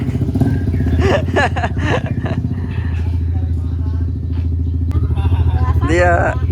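A motorcycle engine chugs close by and runs steadily throughout the clip, heard beneath people talking in several languages.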